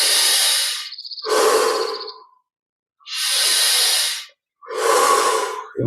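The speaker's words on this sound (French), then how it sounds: "Bien ressentir la saveur de chaque inspiration." Slow, deep breaths during a guided meditation session, several long airy inhales and exhales separated by short silences, close and clear, with no talking.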